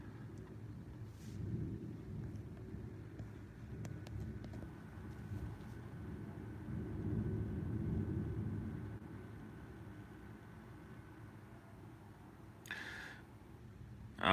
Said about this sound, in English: Yes, it is thundering right now.